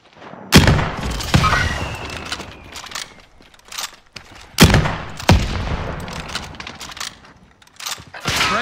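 Gunfire in a Call of Duty Modern Warfare match: sharp bursts and single shots crack out near and loud at irregular intervals, with quieter distant shots between them.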